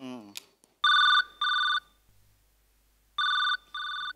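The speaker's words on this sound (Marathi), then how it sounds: "फोन उचल, कान किटलं नाहीत का तुझं?" A telephone rings in two pairs of shrill electronic trills separated by a pause, after a brief vocal sound at the start.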